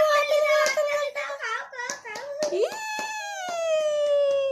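People clap by hand at a child's birthday cake-cutting at home. A scatter of sharp claps lands in rhythm under a sung birthday song, close and lively.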